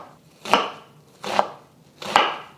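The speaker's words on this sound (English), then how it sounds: "I'm gonna try to cut this into little pieces, minced, I guess, or just chopped" Knife chopping onion into small pieces on a cutting board: three separate, crisp chops spaced evenly about three-quarters of a second apart, close and clear, with no talking.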